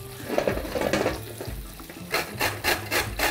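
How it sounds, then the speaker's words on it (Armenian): A fresh carrot is rubbed against a grater for a lamb and quince dish, giving rough rasping scrapes that build into quick, regular, close strokes at the end. "Գազարը, որպեսզի ժամանակ չկորցնենք կտրատելու վրա, անմիջապես կքերենք"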